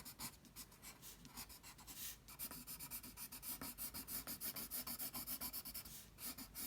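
Tree lines are drawn on paper in brisk, repeated pencil strokes, close and scratchy, speeding into a rapid rhythmic run of short strokes, with no talking.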